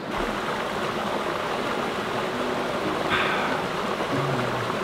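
Water pours steadily from a battery-powered portable purification system into a nearly full water bottle, a continuous close trickle and splash with no talking.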